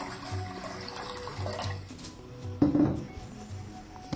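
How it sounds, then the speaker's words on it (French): Water pours steadily into a pot while preparing egusi sauce, a continuous liquid rush with a brief louder splash partway through, heard alone with no talking. "Il faut d'abord verser un peu d'eau là."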